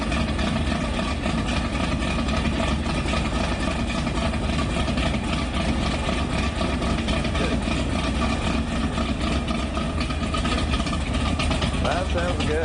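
A car engine idles steadily just after start-up, a continuous low rumble that holds even throughout while people talk over it.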